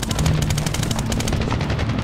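Dense, rapid gunfire from the video game Medal of Honor, loud, close bursts of automatic shots rattling continuously with heavy low rumble, no talking.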